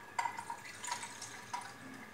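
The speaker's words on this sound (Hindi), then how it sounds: "इसको हम दाल के पानी को इसमें निकाल देंगे एक बर्तन में।" Dal water is poured from a pressure cooker into a pot, giving faint light splashes and drips in a quiet kitchen.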